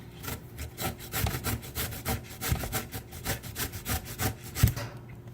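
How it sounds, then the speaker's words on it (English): A small handheld cheese grater scrapes a block of cheese, likely mozzarella, in a steady back-and-forth rasp of repeated close strokes. "start grating."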